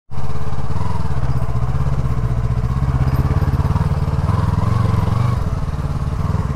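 A motorcycle rides along on a road trip toward Bhutan, its engine loud and close with a steady, throbbing putter that holds constant for several seconds with slight shifts in pitch.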